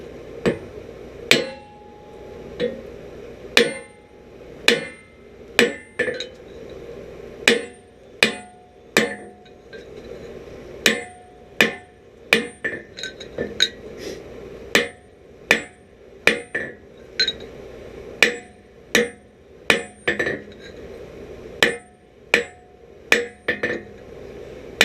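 Steady hammer blows on a red-hot chisel edge at a forge, dozens of sharp ringing metallic strikes in irregular bursts, loud and close with no talking.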